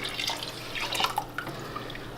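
Cold water pours onto rice in a pot for Egyptian koshari, a short splashing gush with bright trickling and dripping.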